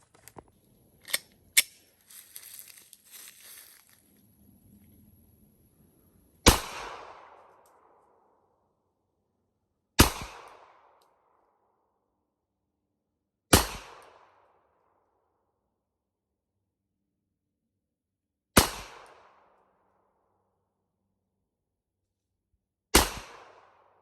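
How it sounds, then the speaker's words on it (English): A Glock 43X pistol fires five single shots outdoors, each a sharp loud crack with a short ringing tail, spaced several seconds apart after some brief handling clicks and rustling. "I'm gonna put my earplugs in and get my glasses on and then shoot a couple"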